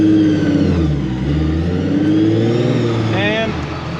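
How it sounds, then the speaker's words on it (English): Supercharged Nissan 350Z accelerating hard, its engine note climbing and sweeping upward in pitch, loud and close from inside the car. "And here we go, aggressive driving."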